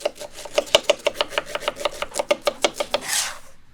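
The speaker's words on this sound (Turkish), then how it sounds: "İnce doğrayın." A knife chops an onion finely on a cutting board, with a brisk, even rhythm of sharp taps and no talking.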